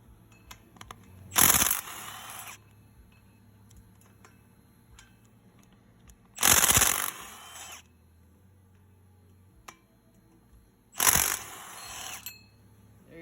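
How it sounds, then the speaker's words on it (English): A power tool with a 14 mm socket spins out wheel bearing bolts on a 2000 Toyota Avalon, giving three separate loud whirring bursts of about a second each, with quiet pauses and faint clicks between them. "So I'm gonna grab my 14 and we'll take the wheel bearing out."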